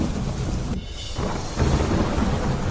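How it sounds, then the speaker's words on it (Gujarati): Sudden heavy monsoon rain pours down in a dense, steady roar with low thunder rumbling through it. The downpour is loud and close, dips briefly, then surges back, with no voices. "ભારે ગાજવીજ સાથે એકાએક પડ્યો વરસાદ"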